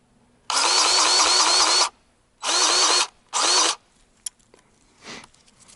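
A Dewalt DCGG571M1 20V MAX cordless electric grease gun whirs in three bursts, one long and two short, each a close, steady motor buzz, with brief clicks and quiet pauses between and no talking.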